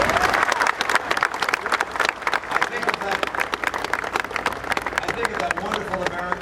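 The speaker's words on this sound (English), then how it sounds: "We applauded him as we recognized his sacrifice for our country." At a Romney campaign rally in Lebanon, Ohio, an audience bursts into dense, sustained applause for a Navy veteran, steady clapping from a large crowd running throughout.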